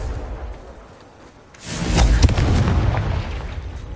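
A Confringo blasting spell goes off in a PS5 wizarding-school game after a quiet lead-in, bursting into a loud, close boom followed by a sustained crackling, rumbling roar that continues to the end.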